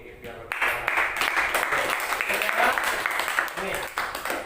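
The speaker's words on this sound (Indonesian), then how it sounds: "Kita kasih tepuk tangan dulu untuk ini" A primary school class applauds together, the clapping starting abruptly and running steadily for about four seconds, fairly loud and close, with children's voices mixed in.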